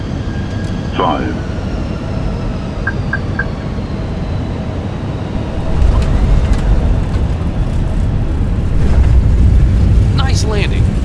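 Fenix A320 airliner touching down at Prague in Microsoft Flight Simulator 2020, a steady engine and rolling rumble that swells after touchdown, with a few cockpit callout beeps and a voice speaking over it.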